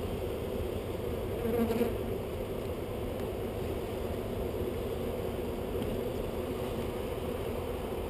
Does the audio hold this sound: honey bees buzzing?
yes